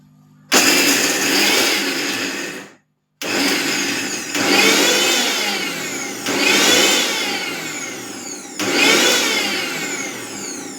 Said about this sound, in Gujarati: ચાલુ બંધ ચાલુ બંધ મિક્સર કરતા જઈ તેને અધકચરું પીસી લેશું